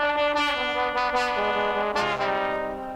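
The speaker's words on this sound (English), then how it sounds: "I snuck it in the trombones in the second chorus." Trombones sustain a bending, slightly dissonant chord line that slides between pitches, loud and full with no voices.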